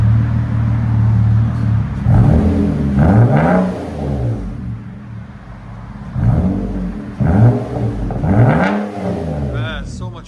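A 2009 Nissan Maxima with a 3.5L V6 and a Vibrant muffler-delete exhaust revs repeatedly, loud and close, with several rising and falling rev bursts and people talking over it.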